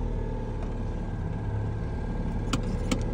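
A 1982 Citroen 2CV engine idles steadily after a cold start, its low, even putter running continuously and close by with a couple of brief clicks near the end.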